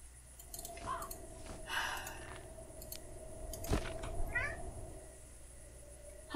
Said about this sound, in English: But that can't be my kitty because Mr. Midnight is home.